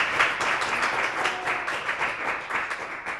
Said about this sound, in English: I just want to do another round of applause for our speakers today